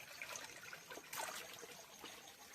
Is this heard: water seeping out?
yes